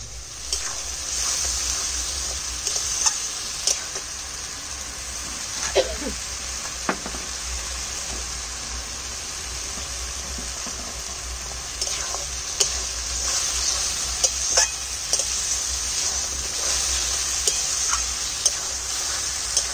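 Steady, crackling sizzle of garlic and ginger paste frying in a hot pan, with occasional clicks and scraping stirs, close and continuous throughout.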